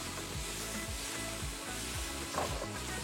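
Turmeric sizzling in hot oil in a pot for a beef stew, a steady close crackling fry with occasional stirring scrapes and no talking.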